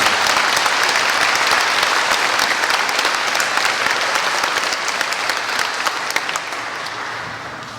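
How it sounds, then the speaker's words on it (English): A school centennial celebration audience gives sustained applause, loud dense clapping from a large crowd that gradually tapers off toward the end. "how about another applause for Charlie Chase and Ken?"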